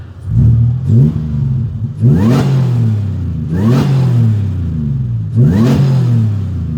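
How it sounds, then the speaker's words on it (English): A supercharged Toyota Tacoma 5VZ V6 engine with an open-element intake revs hard three times in quick succession, each burst climbing sharply then settling back to a steady idle, loud and close. "So just a couple of last quick revs right before I shut her down."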